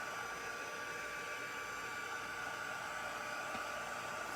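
A heat tool blows steadily at close range while drying a freshly stamped card, a continuous broadband hiss with a faint whine holding level throughout.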